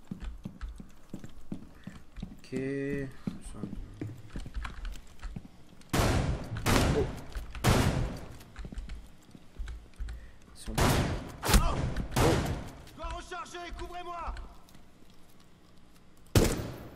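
Gunfire from the Rainbow Six Siege video game comes in several loud sharp bursts of shots spread across the span, with quieter mechanical clicks and brief speech between them.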